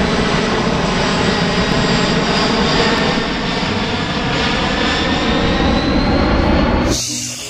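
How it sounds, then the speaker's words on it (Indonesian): Royal Air Force aircraft engine drones loudly and continuously, a broad, powerful roar with a steady whine on top that holds for several seconds before cutting off abruptly near the end. "Ini pesawat Royal Air Force."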